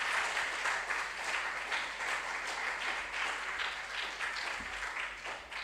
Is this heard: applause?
yes